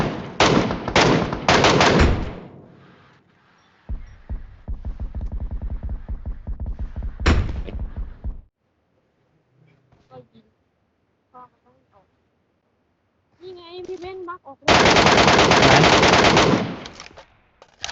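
Loud automatic gunfire from the PUBG Metro Royale video game, bursts of rapid shots at the start, in the middle and at the end, with quieter gaps between and voices talking.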